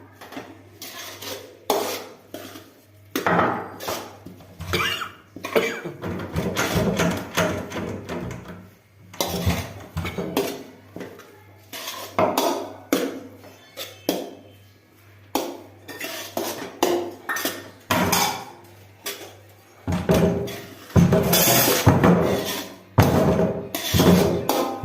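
A metal spoon stirs pulav rice for ten people in a cooking pot, with repeated scraping, clinking and thudding against the pot sides in an irregular, continuous rhythm, close and fairly loud, without any talking.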